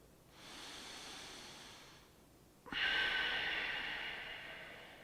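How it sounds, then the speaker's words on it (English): Deep breathing during a yoga spine stretch, a slow soft inhale followed by a stronger, breathier exhale that gradually trails off, close and quiet with no talking. "One more breath here."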